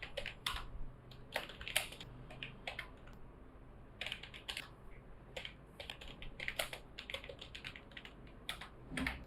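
Rapid, uneven keystrokes on a computer keyboard while typing a paragraph, with close, crisp clicks in bursts and brief pauses, no voice.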